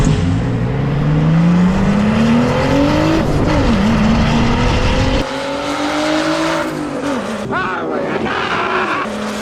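Drag racing cars roar past at Hot Rod Drag Week, engines rising in pitch as they accelerate, loud and close, with a second car sweeping by partway through and a brief tire squeal.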